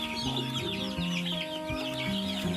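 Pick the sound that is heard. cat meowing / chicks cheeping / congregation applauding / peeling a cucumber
chicks cheeping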